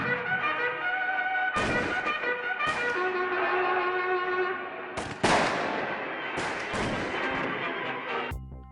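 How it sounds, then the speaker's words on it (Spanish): Sustained orchestral music plays while several sharp, booming cannon blasts and gunshot cracks burst through at irregular intervals. "los sonidos de las balas, los sonidos de los cañonazos"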